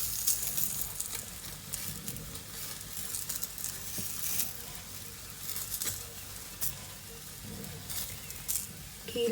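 A roti cooks on a hot pan after being flipped, producing a soft, steady sizzle and hiss with occasional faint taps, fairly quiet.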